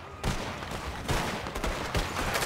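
Gunfire erupting in a camp in the video game Red Dead Redemption 2, a dense, loud volley of overlapping shots in quick succession.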